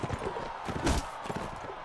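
Horse hooves clip-clopping in the Mount & Blade: Warband video game during a tournament fight, a quick run of soft, muffled hoofbeats amid busy game noise, with a faint voice underneath.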